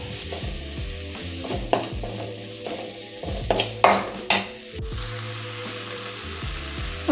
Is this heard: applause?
no